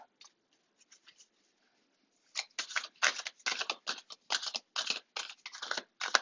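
Tarot cards riffled and shuffled in quick bursts of papery flicks and slaps, close by, with a few soft taps before.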